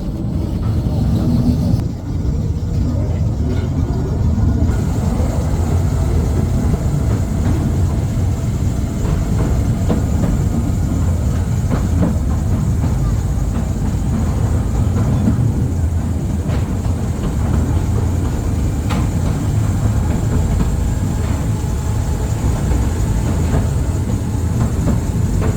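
A miniature underground mail train rumbles along its rail tunnel, giving a dense, loud, continuous roar with faint rhythmic clicks of wheels on track and no voices.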